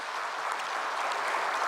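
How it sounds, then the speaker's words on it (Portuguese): Audience at a labour ministry event giving ministry staff a round of applause, a brief, dense and even patter of many hands throughout. "E eu pedi uma salva de palmas a ele pelo belíssimo trabalho que eles fazem."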